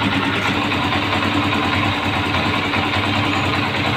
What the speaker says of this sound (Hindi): दोस्तों ये इसका इंजन का साउंड है